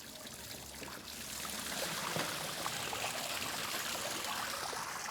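Water runs out of the loosened grey cap on the filter of a Kärcher B150 scrubbing machine, a close, steady pouring trickle that grows louder after the first second and then flows evenly without speech.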